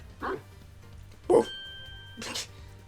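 A stock dog-bark sound effect in the Ace Attorney Investigations video game gives three separate, evenly spaced barks, each short and clear against a quiet background.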